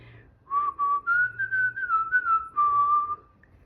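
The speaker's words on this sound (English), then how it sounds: "I was whistling" A single person whistles a melody, one clear pure tone gliding through a few sustained, connected phrases, close and alone with no talk.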